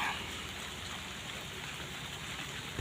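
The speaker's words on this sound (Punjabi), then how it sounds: "ਮੀਂਹ ਪੈ ਰਿਹਾ" Steady rain falls outdoors, a continuous even patter on surfaces at moderate distance, with no voices and a single faint knock near the end.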